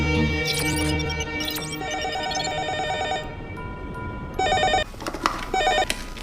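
Telephone ringing after a number is dialled, a repeating electronic ring tone with bursts of rapid tones and beeps, loud and close, with no one speaking.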